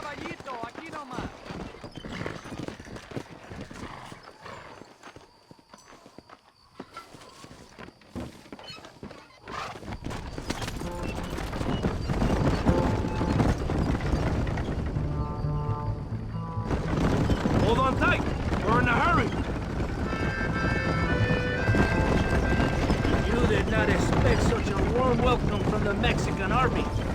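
A horse gallops in Red Dead Redemption set in Nuevo Paraíso, Mexico, hooves pounding under steady game music and frequent spoken dialogue, growing louder after a quieter opening.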